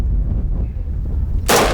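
A single loud pistol shot at steel from behind cover lands near the end as a sharp, close crack, after a stretch of low rumble.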